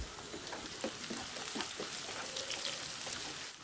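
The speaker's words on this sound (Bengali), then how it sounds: "পেঁয়াজটাকে আমি হালকা কালার আসা পর্যন্ত নেড়ে চেড়ে ভালো করে ভেজে নেব।" A cup of chopped onion fries in a pan while it is stirred, as the first step of a pangas fish curry. A soft, steady sizzle with fine crackling runs throughout and has no voice over it.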